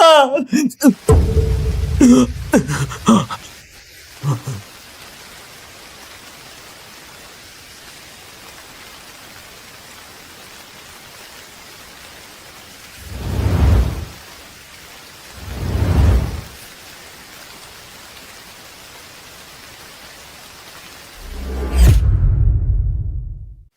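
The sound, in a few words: heavy rain with thunder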